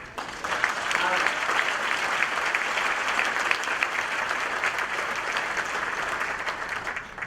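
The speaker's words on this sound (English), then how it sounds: "I ask that you give a round of applause so we can start the program." A gala dinner audience at the Syracuse NAACP Freedom Fund Dinner breaks into dense, sustained applause that holds steady for several seconds, filling the room with many hands clapping at once.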